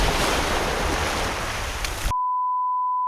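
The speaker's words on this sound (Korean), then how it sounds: "저렇게 누워 파도 소리를 들으며 기다리면 된다고 한다" Ocean waves washing onto a summer beach at a seaside campsite in Gangneung, a loud, steady rush of surf and wind that cuts off abruptly into a plain electronic tone.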